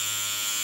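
A handheld cordless paint mixer runs at high speed, giving a steady, high-pitched electric whine with a buzzing motor tone that stays constant and close for a brief moment.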